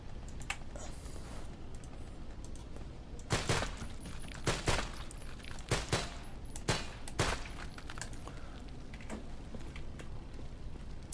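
Guns fire in the zombie survival game No More Room in Hell, a quiet scattering of individual shots in irregular bursts over a steady low background hiss.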